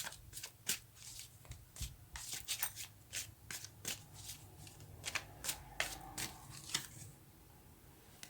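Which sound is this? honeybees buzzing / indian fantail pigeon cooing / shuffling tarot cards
shuffling tarot cards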